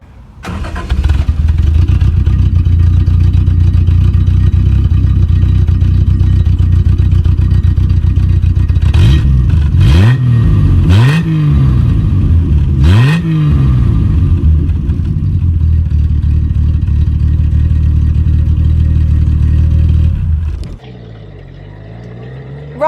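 A Triumph GT6 Mk.3 straight-six with twin carburettors idles loudly and steadily, then is blipped through a few sharp revs before settling back and shutting off near the end.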